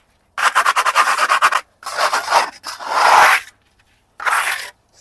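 A trowel scrapes hardened silicone base coat in four loud, close passes: a quick ratcheting rasp, then longer rough scrapes separated by short silences.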